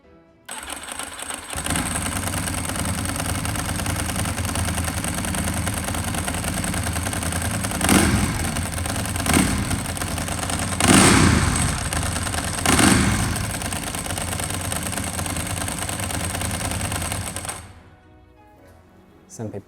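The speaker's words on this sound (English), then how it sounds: "one thing that you know perhaps a Ducati to be famous for is the sound of its dry clutch" Ducati motorcycle, a sister bike to the 996, starts up and settles into a steady idle. The rattle of its dry clutch runs throughout, with a few throttle blips before the engine cuts off near the end.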